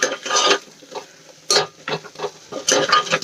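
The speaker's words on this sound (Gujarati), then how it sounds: "અને વચ્ચે વચ્ચે આ રીતે હલાવતા રહેવાનું જેથી કરીને નીચે ગ્રેવી આપણી ચોંટવા ન લાગે" A utensil stirring onions sautéing in gravy in a pan for a pressure-cooker dish, heard as close irregular scraping and clattering bursts against the pan, with no speech.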